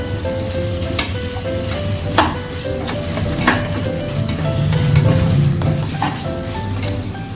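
Potato pieces frying in hot oil in a pan, producing a steady, loud, close sizzle with intermittent clinks and scraping of a utensil stirring against the pan, with no talking.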